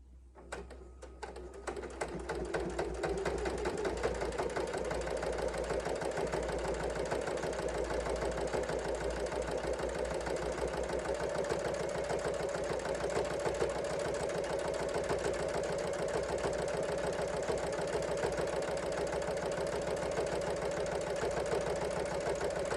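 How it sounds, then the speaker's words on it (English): A sewing machine starts and then stitches steadily in the reverse direction, a continuous close mechanical whirr with a fast, even rhythm and no talk. "Now I'm going to sew the opposite direction, so going the other way."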